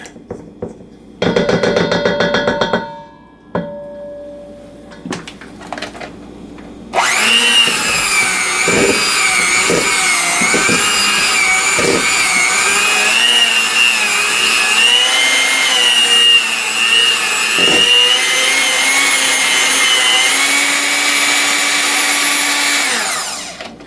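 Hand mixer whirring steadily through crumb cake batter, loud and continuous for most of the stretch after a few short bursts and scraping clatters at the start.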